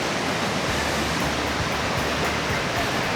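A steady, full-band rush of falling water from a small waterfall on a bass-fishing river, close and constant, with no voices.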